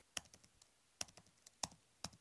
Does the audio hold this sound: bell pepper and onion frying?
no